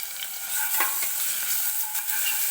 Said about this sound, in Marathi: आता आपल्याला टाकायची आहे आलं लसणाची पेस्ट.